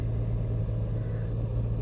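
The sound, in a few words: car driving with the window open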